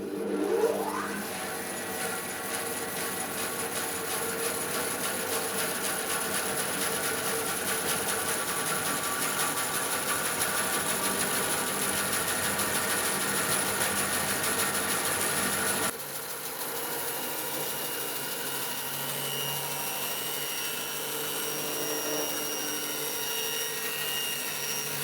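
A large woodshop machine in a countryside barn, driven by a 3-horsepower three-phase motor with massive heavy wheels, spinning with a loud, steady whirring hum that shifts lower partway through and keeps running without talk.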